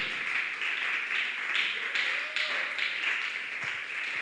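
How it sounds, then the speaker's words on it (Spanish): A church congregation claps in praise, a dense, even wash of many hands, fairly soft and a little distant, with a faint tone drifting underneath and no clear voices on top. "Démosle ese aplauso de alabanza a Él."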